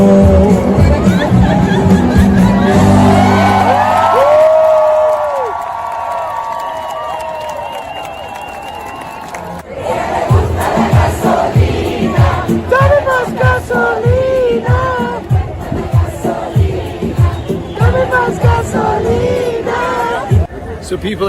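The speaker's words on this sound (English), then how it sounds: "Everybody's cheering each other" A crowd of protest marchers cheers at length, with loud voices and shouts that fade midway, then rhythmic chanting, clapping and babble return at a steady, moderate level.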